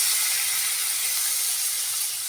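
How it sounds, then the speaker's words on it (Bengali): Water poured onto spice masala frying in a pan sets off a loud, continuous hiss of steam, a bright, even rush that stays strong throughout and thins only slightly at the end. "এবার জল দিয়ে দিচ্ছি"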